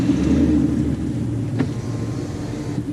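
A 2013 Mustang GT 5.0 with a twin-disc clutch idles low and steady while reversing slowly, a constant rumble with a brief faint whine partway through.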